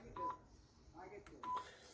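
Two short keypad beeps come from a damaged mobile phone whose buttons are failing, heard faintly beneath someone speaking close by.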